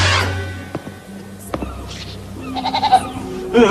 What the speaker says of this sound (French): C'est une chèvre.